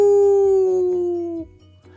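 A single long, loud coyote howl glides slowly downward and fades out, seemingly a human voice imitating the animal, followed by a brief quiet tail.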